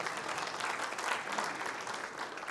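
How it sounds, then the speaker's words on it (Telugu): An audience at an evening meeting breaks into steady, dense applause, a continuous wash of many hands clapping at moderate distance for the whole stretch. "మీ అందరికి చప్పట్లు కొట్టుకోవాలి."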